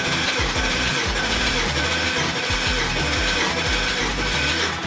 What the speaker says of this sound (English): crank over the engine for 3 to 5 seconds